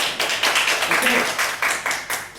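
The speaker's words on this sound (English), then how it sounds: "give it a big applause." A small audience claps in a short burst of applause, a brisk patter of hands with a brief spoken word over it.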